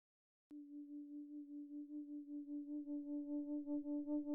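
A synthesizer plays a steady tone with phase distortion. It starts abruptly and sustains, with a slow, pulsing wobble that grows slightly louder over several seconds, and there is no talking.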